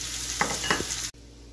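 Chopped onions and capsicum sizzle in hot oil in a pan for prawn chilli manchurian, stirred with a few sharp scraping strokes, close and loud, before the sound cuts off abruptly.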